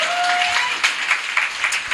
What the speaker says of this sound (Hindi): हम धन्यवाद की ताली देंगे